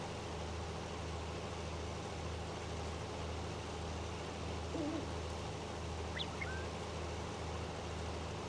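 A daytime owl hoots in Farming Simulator 19 on the Griffin Indiana map, a couple of faint, distant calls riding over a constant low engine drone.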